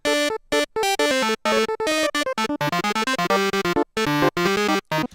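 Choppy, distorted synth notes stutter in a rapid, uneven sequence with abrupt gaps, loud and harsh, with no voices.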